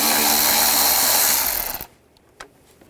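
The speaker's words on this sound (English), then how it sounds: "I'm going to use a 8mm socket" A socket wrench with an 8mm socket removes a bolt holding the A/C condenser cooling fan assembly on a 2008-2012 Jeep Liberty 3.7L V6. Close, loud whirring runs steadily, then cuts off abruptly, leaving quiet with a single faint click.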